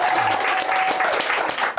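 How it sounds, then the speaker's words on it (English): An audience gives a big round of applause at the grand finale of a festival, with a steady, full wash of clapping and a faint tone running through it. "So a big round of applause to Skinny Mammoth for making the DIF what it is."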